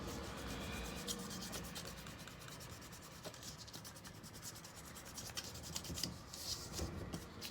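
Soft, steady rubbing as pencil writing is erased from paper on a lacy folio craft project, a faint continuous scratchy friction close by with no talking.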